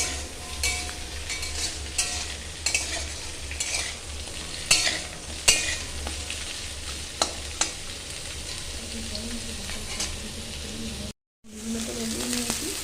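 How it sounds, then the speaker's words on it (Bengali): Drumstick stems and lentil dumplings fry in oil in a wok, a steady sizzle broken by repeated sharp scrapes and clinks of stirring, with no talk and a short dropout near the end. "বড়িটা আমি ভেজে নিচ্ছি আগে, তারপরে ডাঁটাটা ভেজে নেব"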